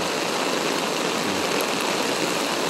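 Floodwater in Palaris pours past in a constant loud rushing wash, close and unbroken for the whole stretch, with no talking.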